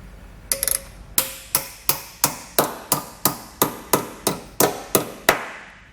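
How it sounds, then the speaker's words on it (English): Steady hammer blows flattening a metal tab while installing a Curt trailer hitch receiver on a 2020 Subaru Ascent, about fourteen sharp ringing strikes at an even pace, close and loud, with no talking. "we want to take a hammer and we want to flatten this tab out"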